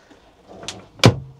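A shower door in a Dreamer D55 Fun camper van (2024 collection) is moved, giving a soft sliding scrape followed by a sharper knock as it settles into place, close and fairly quiet.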